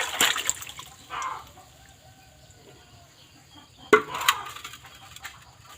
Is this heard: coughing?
no